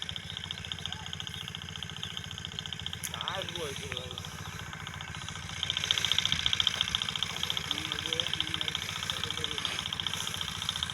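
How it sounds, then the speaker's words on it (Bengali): A motorcycle engine idles steadily at a popular outdoor spot where people gather, a low continuous rumble that swells slightly louder midway, with voices and background activity mixed in. "বাইক কাজ করতেছে"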